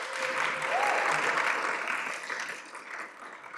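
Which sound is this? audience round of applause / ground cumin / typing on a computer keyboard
audience round of applause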